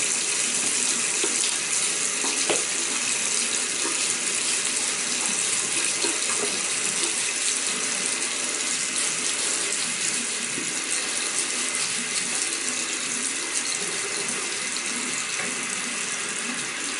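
Tap water runs in a steady, close splashing stream into a sink while a shaving brush is wetted, continuous and fairly loud throughout with no voices.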